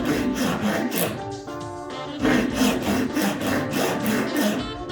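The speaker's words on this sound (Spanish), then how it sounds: "Le dejáis caer el serrucho." Hand saw cutting through wood, steady rhythmic rasping back-and-forth strokes, close and loud, with a brief slower pause midway before the strokes pick up again.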